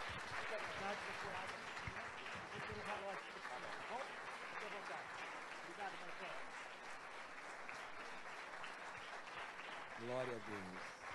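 Congregation applause for a pastor during a church service, a sustained bed of clapping from a crowd at moderate level, with voices talking and calling out over it throughout.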